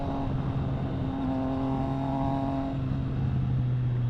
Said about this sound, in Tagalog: Kaya medyo pahirapan na ang initan ng makina ng mga Euro bikes.